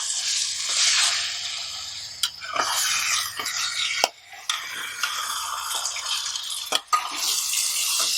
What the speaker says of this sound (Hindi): चिकन हमने मसाले में डाल दिया है। अब इसे हम 3-4-5 मिनट भून लेंगे बढ़िया मसाले के अंदर।